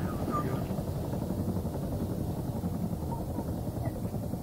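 A constant low rotor drone and engine roar from a video game helicopter fills the whole stretch, loud and steady with a dull thumping texture and no voices.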